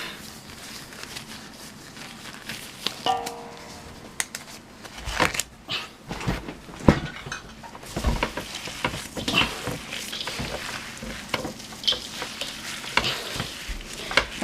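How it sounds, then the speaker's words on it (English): Gloved hands knead and squish a meatloaf mixture in a huge 30-quart bowl, irregular wet squelching and slapping sounds, close and steady over a quiet background, with no talking. "we're gonna mix this all together"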